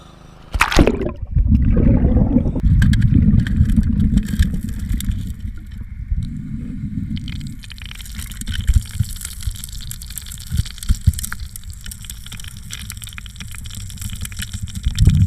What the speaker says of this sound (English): break out the blaster nozzle and squirt it with some high pressure water